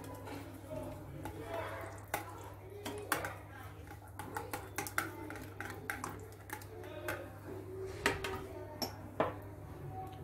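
A utensil stirs semolina and egg in a bowl for a syrup-soaked rose dessert, giving soft scraping and occasional light clinks close by over a steady low hum, while someone talks.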